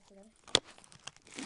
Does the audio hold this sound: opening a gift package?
yes